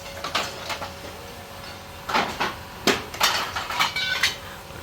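Scrap metal is smashed at a scrapyard in Qatar, with irregular sharp metallic clanks and bangs. They are sparse at first, then come in a quicker cluster, moderately close and with no speech.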